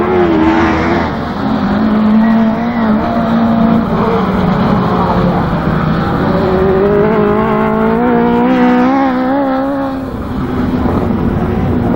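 Autograss racing cars roar around a dirt track at a St Neots finals meeting, several engines droning and revving continuously at high volume throughout, with a commentator talking over the noise.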